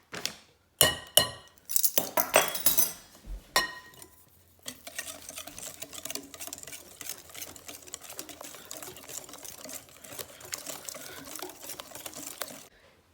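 Lava cake batter of sugar and a pinch of salt being stirred in a bowl, with a few sharp clinks and knocks early on, then a steady, moderately loud scraping and whisking that runs continuously for several seconds.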